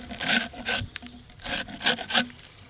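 A knife blade scrapes bark off a piece of wood in five rough, rasping strokes, each a short burst of gritty friction with brief gaps between, close up and with no talking.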